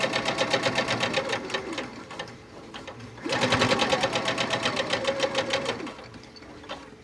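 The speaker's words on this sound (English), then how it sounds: "You're going to run a fixed stitch or a reverse stitch, whatever your machine has. And we're really just going to sew down really quick." A sewing machine stitches face mask fabric in two close, steady runs of rapid rhythmic clatter, pausing briefly in the middle before starting up again, with no voices present.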